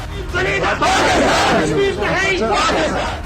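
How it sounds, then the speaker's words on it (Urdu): A large crowd of Kashmiris chants slogans against India, loud and close, rising and falling in rhythmic bursts of many voices shouting together. "انہوں نے سفیروں کے لیے خیر مقدمی جذبات کا اظہار کیا اور بھارت کے خلاف نعرے لگائے"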